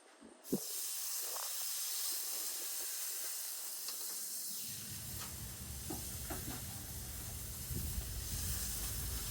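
A ribeye steak lands on a hot Caveman grill and breaks into a loud, steady hiss of sizzling that starts sharply and keeps going, close and even, with no talking.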